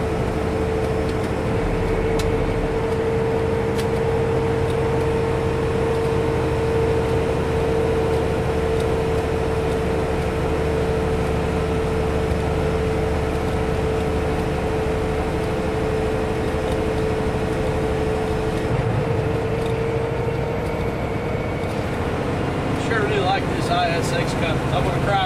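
A semi truck with a Cummins ISX engine cruises the eastbound I-24 interstate near Monteagle, Tennessee, its steady drone and road roar constant and close from the cab while someone talks over it.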